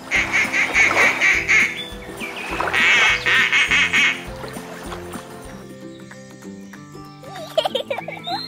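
A duck quacks in a run of loud, close, nasal calls over a background of game music, then the quacking stops and only the music continues.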